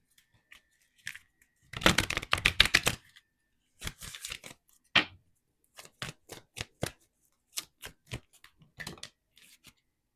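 Tarot cards being shuffled and drawn, a dense burst of riffling followed by a series of separate crisp card snaps and slides, close and quiet with no talk.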